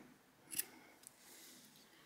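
Scissors snip through yarn at the end of a crocheted turtleneck sweater, a single quiet cut standing out briefly against a near-silent background.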